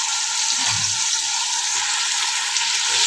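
Tomatoes frying in a pan with onion for spicy prawn biryani, a continuous close sizzle with faint stirring scrapes underneath.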